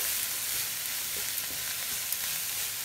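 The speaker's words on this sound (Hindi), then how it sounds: "सारी सब्जियों को हमें 2 मिनट तक रोस्ट करना है" Chopped vegetables with white and purple cabbage roasting in a hot pan, a steady soft sizzle and hiss with faint stirring scrapes, quiet and continuous with no voices.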